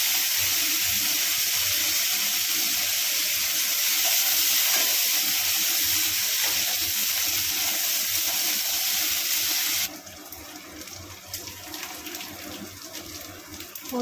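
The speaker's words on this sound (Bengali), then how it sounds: "পেঁয়াজ কুচি দিয়ে দিলাম" Chopped onions fry in a pan for a Bengali prawn and pui shak dish: a continuous sizzling hiss that runs for about ten seconds, then drops to softer crackling and faint stirring sounds.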